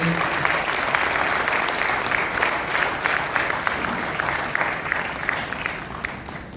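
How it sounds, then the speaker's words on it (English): A crowd claps steadily and loudly throughout, honoring travelers and dignitaries at a chefs' association anniversary celebration, with no talk over it. "Round of applause for all the travelers, dignitaries."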